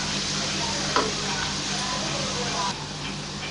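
Onions and a piece of cinnamon frying to light golden in a pan, a steady close sizzle that drops a little in level near the end, with a brief clink partway through.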